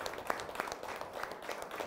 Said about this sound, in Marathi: तोपर्यंत टाळी वाजवत सुरुवात होईल